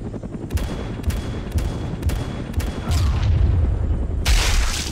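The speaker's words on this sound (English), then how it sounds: "Do they really just shoot a rocket into the compound?" Rapid gunfire bursts and a heavy explosive blast as a rocket strikes a compound in a Vietnam War video game, five sharp shots leading into a louder rumbling impact that fills the end.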